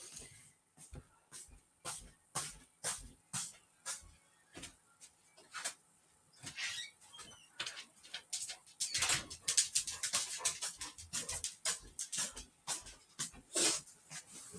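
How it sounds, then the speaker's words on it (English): A dog being let into a house pants and whimpers close by in quick rhythmic bursts of breath that grow busier and louder toward the end, with no talking. "Let me let this dog in."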